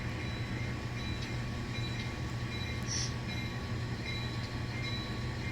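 N scale model train engines pulling lumber empties on a layout give a steady, soft mechanical whir and rolling hum with faint wheel clicks, continuous throughout with no talking.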